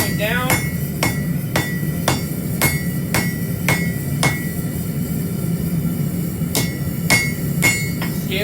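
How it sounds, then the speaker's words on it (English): Sharp metallic hammer blows ring out in a steady rhythm, about two per second, drawing down a metal edge, with a brief pause before the strikes resume. "So you can see right now I'm just hammering down on the edge"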